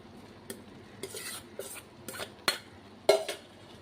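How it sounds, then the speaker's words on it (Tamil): Cooked rice is tipped into a pot of simmering tomato mixture, giving a few sharp spoon-on-metal clinks and soft scraping stirs, close and sparse, with no voice. "இப்போது ரைஸை ஆட் பண்ணிக்கிறேன்."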